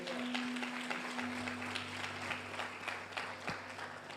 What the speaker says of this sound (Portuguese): Aplaude mesmo